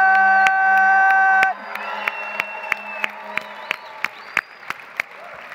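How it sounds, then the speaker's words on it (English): An arena audience cheers at a FIRST LEGO League World Festival closing ceremony, a sustained roar with a loud tonal horn-like blast at first, then crowd noise under regular sharp percussive hits. "Ladies and gentlemen, one more round of applause for Untitled One!"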